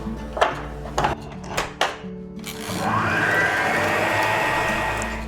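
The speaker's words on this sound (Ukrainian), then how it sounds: "І тепер збиваємо." An electric mixer whips well-chilled 35% cream into cream cheese: a few clunks and knocks come first, then a steady, loud motor whir runs through the second half.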